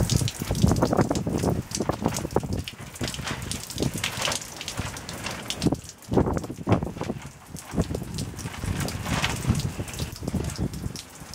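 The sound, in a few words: water draining out of a flooded tray through a hose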